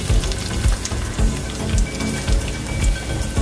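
Sliced onions fry in an oiled pan with curry leaves for a masala dosa filling, a loud, dense crackling sizzle with rhythmic stirring thumps close by.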